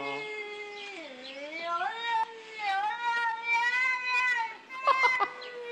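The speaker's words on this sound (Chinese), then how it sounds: "是只猫，是只猫。" A cat meows in long, wavering, drawn-out cries that rise and fall, loud and clear, played as a sound to identify in a TV guessing-game show.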